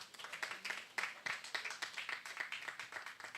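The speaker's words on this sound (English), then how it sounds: "the Honorable Commissioner deserves a better round of applause" Thin, faint applause in a hall at a Valentine charity programme, with steady rhythmic claps from a small group that sound fairly distant and low in level.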